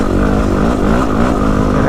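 Yamaha WR250R motorcycle on a rough, bumpy trail during a rainy ride, engine droning steadily and close with a rumbling low end, wind and jostling mixed in, and a voice talking over it throughout.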